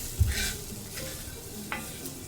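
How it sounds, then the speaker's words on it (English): Mushrooms sizzle faintly in a pan that has been taken off the flame, a soft steady crackle with a light clink of cookware near the start and another near the end. "You can still hear the mushrooms over here sizzling a little bit"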